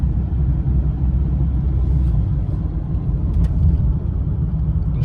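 A V10-powered Dodge Ram 2500 pickup rolls along with a deep, steady engine and road rumble, heard from inside the cab with no talking.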